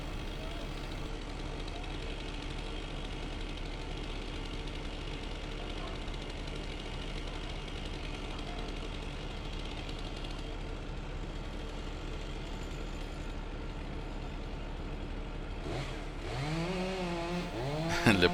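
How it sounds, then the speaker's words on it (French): A chainsaw engine drones steadily at a distance while cutting a black locust tree in Montreal, revving up louder near the end. "ils changeaient la scie là, pour aller de plus en plus gros"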